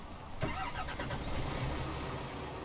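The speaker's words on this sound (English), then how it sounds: "let's hear this engine rev" A truck engine in the European Truck Simulator 2 video game starts with a sharp crank, then settles into a low steady idle with a slight rising rev, heard alone.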